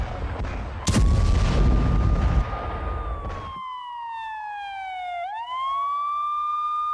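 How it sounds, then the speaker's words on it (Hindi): An air raid siren wails in Tel Aviv during an Iranian ballistic missile attack, its long tone slowly falling and then rising again, loud and sustained, following a burst of loud crowd and street noise at the start. "एक बार फिर सायरन बज रहे हैं, टेल अवीव में एक और हमला बैलिस्टिक मिसाइल से"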